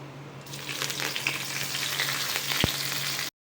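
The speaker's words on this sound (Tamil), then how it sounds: "கொஞ்சமாக ஜீரகம் சேர்த்துக்குவோம். இது கொஞ்சம் பொரிஞ்சதும் கருவேப்பிலை சேர்த்துக்குவோம்." Cumin seeds crackling and sizzling in hot oil as the base for a fish curry, a close, steady frying hiss with small pops and one sharp clink near the end before it cuts off.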